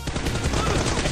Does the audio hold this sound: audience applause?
no